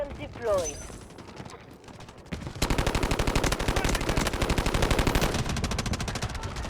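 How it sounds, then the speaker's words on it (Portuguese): Sustained automatic gunfire in the Delta Force Mobile shooter, a dense rapid burst of rounds that kicks in partway through and continues loudly to the end, with scattered game effects beforehand. "alguém atirou em mim aqui, eu nem sei de onde"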